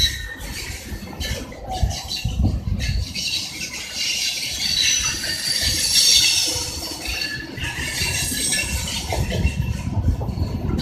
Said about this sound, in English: How long is this freight train?